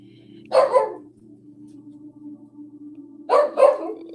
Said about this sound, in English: Hear my puppy, he excited.